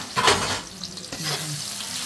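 Garam masala and chopped onion dropped into hot oil for an egg korma, a loud burst of sizzling that settles into a continuous close hiss for a couple of seconds, with no talking.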